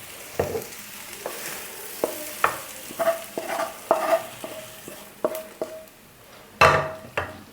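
Beef with mess masala is stirred in a frying pan, the spoon scraping and knocking against the metal in a dozen or so irregular strokes over a continuous sizzle, with no talking.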